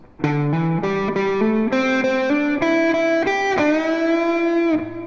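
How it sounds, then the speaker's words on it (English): A distorted electric guitar plays a slow pentatonic lick of sustained, bending notes, each ringing into the next, loud and alone. "the entire lick played slow sounds like this."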